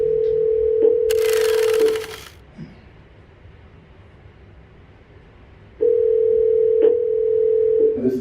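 Telephone call tones: a steady low hum sounds for about two seconds, broken by a burst of noisy clatter, then goes quiet before the same continuous tone returns and holds to the end.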